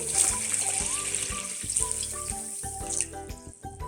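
Water pours steadily into a container of sea salt to make brine for kimchi, a continuous close gush with light splashing that thins out near the end, with no one talking.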